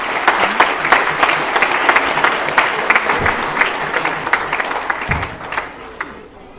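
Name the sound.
audience applause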